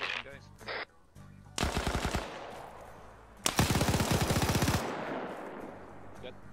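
Bursts of machine gun fire in the military video game Arma 3: two long rapid volleys of rattling shots with a pause between them, loud and close, with voices talking around them.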